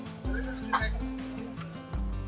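Chickens and ducks clucking, quacking and squawking in short bursts amid a busy weekly market bustle in Dimapur, with a low repeated thumping underneath.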